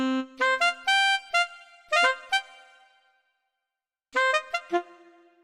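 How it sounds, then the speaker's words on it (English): A wacky cartoon sound effect of a mouse popping out of its hole: a bright, horn-like synth plays short bursts of staccato notes, then a pause and another quick burst, with no talk. "That's the sound of a mouse coming out of its hole."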